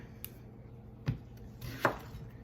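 A knife chunking a sweet potato or pumpkin on a cutting board during canning prep, giving two sharp, quiet chops about a second apart over a faint background hum, with no talking.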